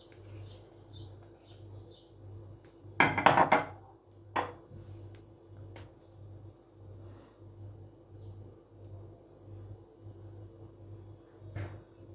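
Utensils clatter and scrape against a dish while whipped cream is spread over an Alaska dessert, with a brief burst of close clinking, a lone tap after it, then a soft room hum.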